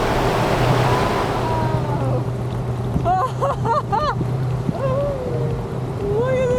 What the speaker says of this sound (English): Look at this water flow.